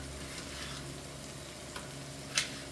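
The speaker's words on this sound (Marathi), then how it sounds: "थोडे गावरान टमाटर टाकते मी आता" Country tomatoes go into a hot pan of oil for chicken biryani, giving a steady close sizzle and frying crackle with a few soft stirring clinks.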